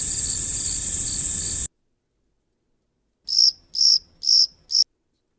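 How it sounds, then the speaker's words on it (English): Four short bursts of cricket chirping played from a soundboard, evenly spaced and fairly loud, following a separate stretch of steady insect-like buzzing that cuts off abruptly. "That wasn't the right cricket."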